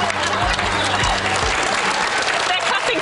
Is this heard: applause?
yes